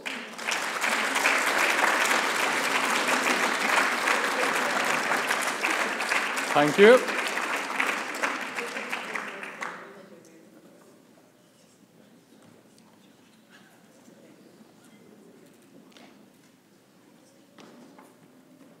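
Sustained audience applause fills a forum on advancing women in leadership, dense and steady for about ten seconds before fading out, after which a voice briefly says thanks over a quiet room.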